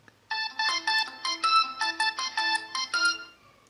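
A KECHAODA K116 card-size mini mobile phone plays its power-on tone, a bright electronic melody of about a dozen quick, clear notes, close and alone against quiet.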